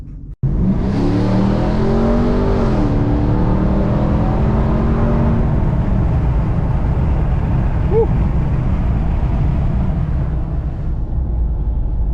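A 2022 RAM TRX with a Corsa Extreme exhaust starts up abruptly and revs loudly up close, the deep engine roar climbing, then settling into a sustained throaty rumble before cutting off.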